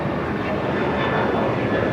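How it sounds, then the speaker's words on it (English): A United Boeing 787 Dreamliner arriving at Los Angeles airport on the south side, a steady broad roar of jet engines that holds loud and even throughout, with no pause or break. "We have a heavy arrival here on the south side. United 2445, the Dreamliner from Newark."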